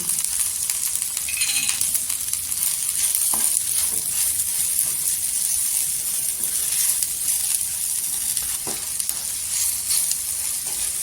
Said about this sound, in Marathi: इथे मसाला आहे ना छान असा तेलावर परतून घ्यायचं